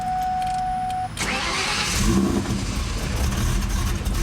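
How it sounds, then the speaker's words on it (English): A car fitted with a Whipple supercharger cranks and starts, then settles into a loud, rough, uneven idle that keeps surging and stumbling, recorded close by with no talking. "tried to start the car up, and it won't really idle"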